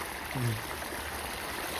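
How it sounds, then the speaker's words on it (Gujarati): A steady wash of flowing water fills the clip, constant and moderately loud, with a brief low murmur early on. "ઓલી બાજુથી મસ્ત મજાનું પાણી આવી ગયું"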